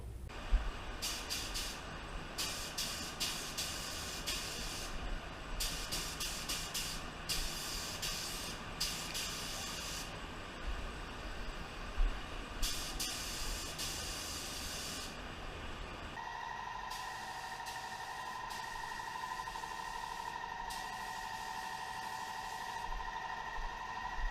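A paint spray gun hisses steadily while spraying lowrider car paint, cutting in and out in repeated bursts before a longer continuous spray with a faint compressor hum underneath.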